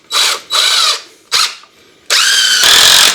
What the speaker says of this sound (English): This is good green treated wood, so the little screws will go in easy without splitting.